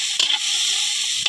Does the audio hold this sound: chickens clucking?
no